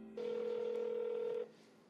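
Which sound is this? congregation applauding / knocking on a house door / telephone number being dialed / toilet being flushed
telephone number being dialed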